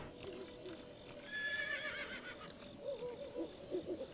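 A horse in the video game Zelda: Breath of the Wild gives a soft, drawn-out whinny, followed by a few short snorting calls, with faint hoot-like game ambience underneath.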